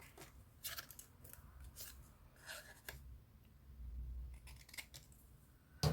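Scissors snip through lace paper on a junk journal embellishment, a quick series of crisp close cuts with short pauses between them and faint rustling of the paper in between.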